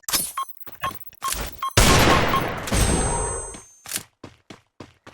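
Gunfire in a shooting video game as a player lines up headshots: sharp, separate shots, then a loud sustained barrage of about two seconds, then more scattered single shots close up, with no voices.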